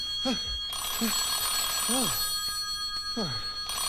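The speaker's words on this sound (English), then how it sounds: "The phone. Must answer the phone." A telephone bell rings in an old Spider-Man audio drama, a steady bright ringing lasting a few seconds with a man's groaning, drawn-out vocal sounds over and around it.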